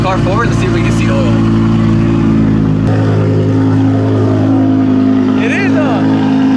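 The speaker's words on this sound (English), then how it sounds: "I'm gonna move the car forward to see if we can see oil." A loud, steady Audi R8 engine idles and rumbles low as the car creeps forward, with people talking over it throughout; the car has an oil problem.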